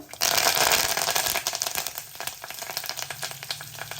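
Coconut, peanuts and red chillies for a chutney sizzling and crackling in a hot pan with the stove just switched off, a bright continuous frying hiss that starts abruptly and gradually thins out, with a faint stir or rattle.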